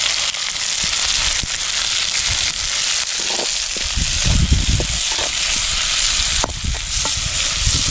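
Tomatoes go into a pan of softened onions being sautéed for a crab gravy, giving a loud, dense sizzle and crackle with repeated scraping stirs and clattering knocks from the spoon.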